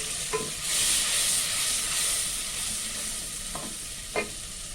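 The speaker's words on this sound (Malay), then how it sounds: "Tumis dulu bagi dia pecah minyak ya." Spice paste mixed with dried anchovies sizzles steadily in hot oil in a pot, a continuous bright frying hiss broken by a few sharp scrapes of a spoon stirring through it.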